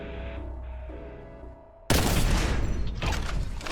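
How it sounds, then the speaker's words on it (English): A single loud gunshot in Warhammer 40K Boltgun, fired just after a stage loads, bursts in abruptly over quiet ambient game music and rings out with a long, broad blast and decaying tail. "it's me firing off a single shot like a dolt after loading a stage"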